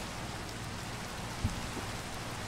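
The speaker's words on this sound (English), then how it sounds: "it is raining, and I'm standing under the tree to not get wet" Minecraft rain falls steadily as an even hiss of drops, continuous and moderately close, with a single soft thump partway through and no voices.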